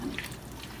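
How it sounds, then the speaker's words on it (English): Water swilled from a rinsed tomato sauce can is tipped into a pan of goulash with cooked pasta, a brief, soft splash close by. "I'm going to rinse out my tomato sauce can with some water and dump that in"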